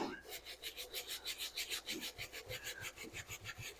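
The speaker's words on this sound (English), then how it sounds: "these little scrub brushes" A small scrub brush rasps back and forth over a Danner Bull Run Moc Toe leather boot, close and steady, with quick rhythmic strokes, roughly four per second, and no talking.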